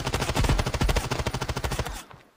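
Rapid automatic gunfire from Standoff 2 at a training ground, a loud steady burst of evenly spaced shots lasting about two seconds, then cutting off with a short fading tail.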